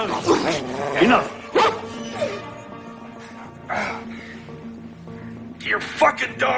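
A dog barks and yips in short, sharp bursts amid a tense film scene, the bursts spaced irregularly and close, with speaking voices around them.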